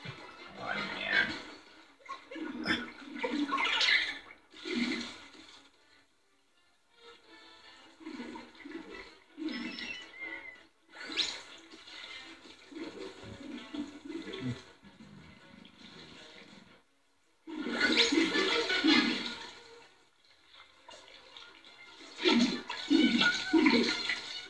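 Water spraying in the Super Mario Odyssey video game comes in repeated hissing gushes. The bursts have gaps between them and are loud and close, with one longer spray near the end.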